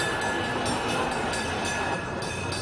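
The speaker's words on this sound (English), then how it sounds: "The noise of trams and pedestrians made it hard for Mao to write." Electric trams rumble and clatter along a busy Hong Kong city street, a steady, fairly loud rolling rail noise with faint rhythmic clicks and the bustle of pedestrians around, and no voices stand out.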